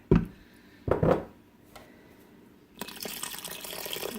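Water is poured into chili in an Instant Pot, with a couple of brief thuds first and then a sustained splashing pour starting partway through.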